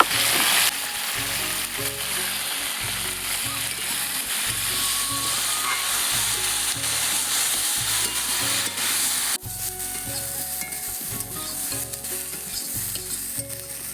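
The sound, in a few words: potatoes frying in a pan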